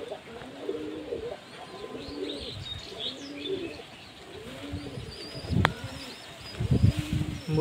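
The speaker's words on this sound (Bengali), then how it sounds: "ভালো কবুতরের বাচ্চা" Soft, repeated cooing from a young pigeon, a newly fledged chick, in low rolling phrases at a steady rhythm, close by, with light chirps and a brief flutter in the background and no speech.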